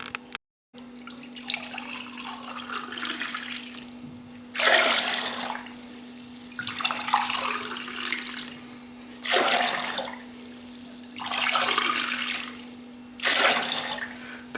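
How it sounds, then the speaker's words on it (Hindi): Raw lassi, a mix of milk and water, pours in several separate bursts into a clay pot, each splash of liquid clear and close, with a steady low hum under it and no voices. "मैं इसको मिक्स कर लेता हूँ और इसको इस जो कुज्जा है इसमें डाल के आपको दिखाता हूँ।"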